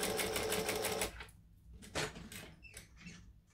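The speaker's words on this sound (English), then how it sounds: "stitching with a 1/8 seam allowance, and I'm making sure that everything sits flat" A sewing machine stitches a leather-style wallet at a 1/8 inch seam allowance, running in a loud continuous burst, then stopping, followed by short quieter stop-start stitches and clicks.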